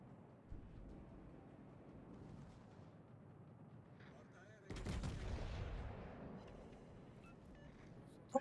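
Naval gunfire from the battleship Lepanto in World of Warships: Legends: a low rumbling barrage under a steady background, then a heavy, broad blast roars in near the middle and trails off, with a sharp crack at the very end.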